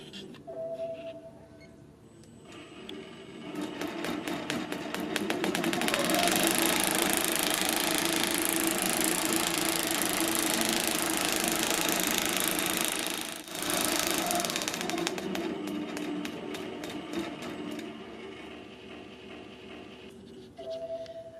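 An Innova longarm quilting machine stitches in basting mode, a steady loud mechanical hum with rapid needle chatter running for most of the span, starting and stopping near the ends.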